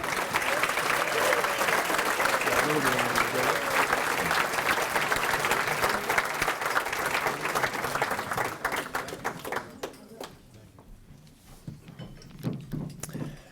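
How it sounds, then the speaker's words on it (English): Sustained audience applause fills a hall during a high school athletic hall of fame induction, steady and dense for about ten seconds before thinning into scattered claps, with faint voices beneath. "So let's all give a big round of applause and bring up our first inductee, Jeff Bailey"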